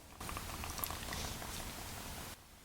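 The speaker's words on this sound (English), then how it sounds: "It started bubbling, and that's releasing that seal, so the oil starts draining back in to the oil pan." Quiet bubbling and gurgling of engine oil draining back into the oil pan of a BMW F80 M3, a soft continuous patter of small pops that stops abruptly near the end.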